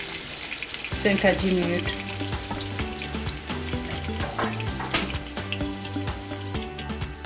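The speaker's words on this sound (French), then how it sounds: "Je vais rajouter les tomates, les morceaux de tomates. Et on laisse mijoter quelques minutes," Tomato pieces simmer in a fish tomato sauce in a pan with a constant close sizzle and bubbling. Occasional stirring scrapes sound over it, and a voice speaks briefly.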